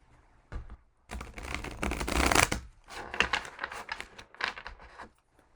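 Playing cards being shuffled by hand, a riffle-style run of crisp flutters and clicks in several bursts with brief pauses between, close up and fairly quiet.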